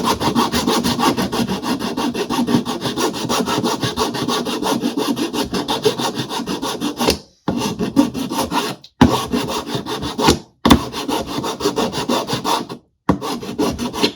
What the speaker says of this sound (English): So pieces like this, which also is left with a little bit of a rough edge, so we'll file that down.